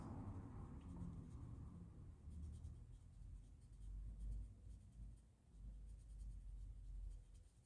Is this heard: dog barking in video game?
no